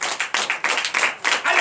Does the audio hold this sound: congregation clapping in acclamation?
yes